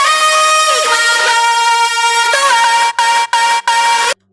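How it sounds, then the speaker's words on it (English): A vocal pushed through a Decapitator distortion plugin on extreme settings and then EQ'd for a drum and bass track, heard as a loud, buzzy, harmonically dense tone that holds steadily, then is chopped by several abrupt gaps near the end. "On the vocal, I used distortion. It's a Decapitator with extreme settings."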